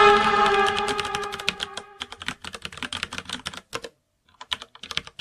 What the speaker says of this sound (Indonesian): dengan suara keyboard yang berbunyi seperti orang yang sedang mengetik.